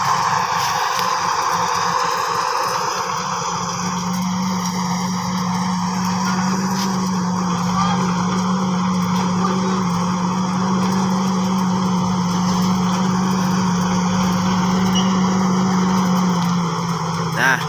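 A corn harvester's engine drones loudly and steadily close by as it reverses toward a truck in a field, with a sustained low hum and a whining tone that rises slightly.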